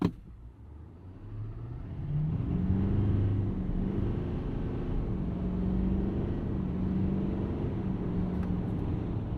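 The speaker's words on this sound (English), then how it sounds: "let's try and do a little bit of a launch here, a little bit of a 0 to 60, and see how this thing performs" A 2022 GMC Sierra 2500 Duramax diesel pickup launching from a standstill toward 60 mph, a muffled, fairly faint engine rumble swelling then holding steady with rising tones as it gathers speed, heard from inside the cab.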